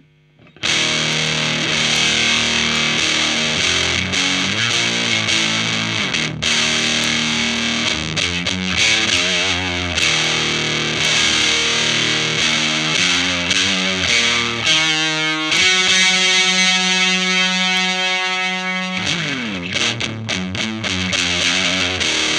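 Electric guitar on the bridge pickup through an Earthquaker Devices Erupter fuzz pedal: loud, saturated fuzz riffs and chords played continuously, with a sustained ringing chord partway through before the riffing resumes.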